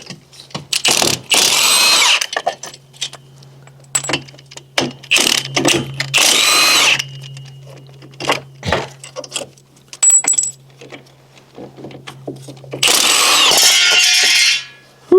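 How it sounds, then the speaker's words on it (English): A 1/2-inch impact wrench fitted with a short 18 socket breaks loose bolts during strut and wheel bearing work on a Chevy Volt, giving several loud, close bursts of hammering separated by quieter clinks and handling noises. "I'm gonna be using a short 18 on my 1/2 inch impact."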